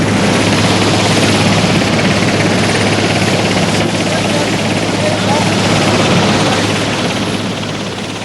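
A search-and-rescue helicopter flies nearby, its engine and rotor making a steady, loud, broadband roar that holds for several seconds and eases slightly at the end.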